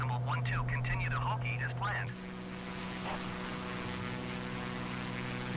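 The propeller engine of a Beechcraft V35 Bonanza in Microsoft Flight Simulator drones on as a smooth, steady hum, its pitch shifting slightly partway through, with a voice talking briefly over the start.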